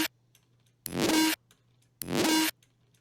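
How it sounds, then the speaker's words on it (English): Two identical bursts of harsh, tearing synthesized noise from a Serum preset layered with white noise, each about half a second long, separated by near silence and a faint low hum. "This is a Serum preset that I made a while ago called Tearing."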